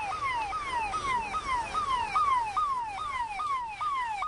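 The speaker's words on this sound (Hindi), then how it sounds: "यहां पर एम्बुलेंस और अच्छी खासी संख्या उनकी है" An ambulance siren wails at the Baltal site near Amarnath, sweeping upward again and again in a rapid, regular cycle, steady and fairly near, with no voices over it.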